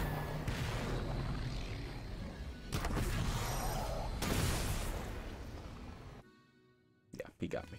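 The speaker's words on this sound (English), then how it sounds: "That grunt fired again." A grunt firing its weapon in Halo's Forge mode, heavy booming blasts and rumbling bursts layered over game noise, ending in a quieter gap and a few sharp clicks.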